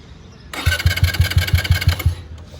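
A Suzuki GSX 125 motorcycle's electric starter cranks with rapid rhythmic whirring pulses for about a second and a half, the engine not catching, with the kill switch engaged, close and fairly loud, then quiet.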